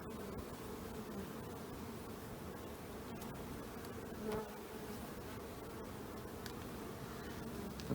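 Honey bees buzz steadily during a hive inspection, a dense, faint, even drone filling the whole stretch with a few light clicks and rustles and no speech.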